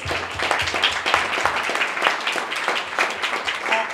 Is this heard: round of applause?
yes